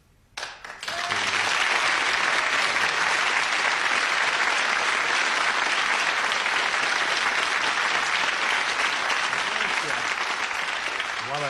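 A studio audience at a 1983 television chat show bursts into loud applause after a brief quiet moment, a thick and sustained roar of clapping that barely lets up.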